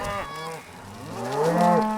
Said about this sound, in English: The cows go through the gate.